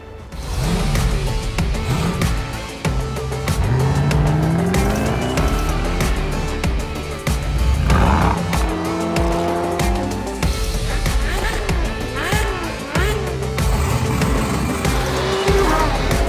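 A 1054 hp Toyota Supra time attack car with a Ferrita muffler roars loudly and continuously, its revs sweeping up and down through gear changes, with tire squeal and skidding noise mixed in, no talking.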